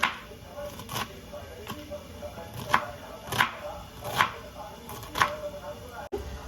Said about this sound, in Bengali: চেষ্টা করবেন শাক যাতে একদম মিহি করে কাটা যায়